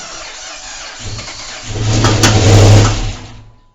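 A junkyard Ram Hemi engine, swapped into a 2007 Dodge Charger AWD, cranks over and fires up, its rumble swelling to a brief loud rev before dropping away, with no talking.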